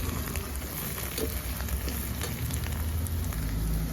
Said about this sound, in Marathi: तर इकडे ना कांदा शिजतोय असा मस्त झालाय आता लाल